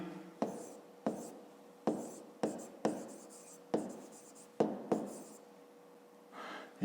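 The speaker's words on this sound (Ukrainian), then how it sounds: "то пишемо тоді Тарас" A pen writes on paper during a 5th-grade math exercise, a close series of about ten short scratchy strokes separated by brief pauses, with no talk.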